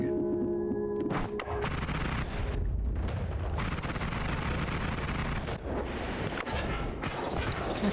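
Gunfire in a video game, continuous loud bursts of shots and rumbling blasts running throughout without pause, with no talking.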